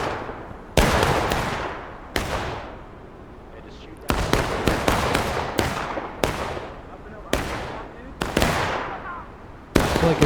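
Repeated gunfire in the War of Rights video game, an American Civil War battle, with about eight sharp loud shots at irregular intervals, each ringing out with a long echoing tail.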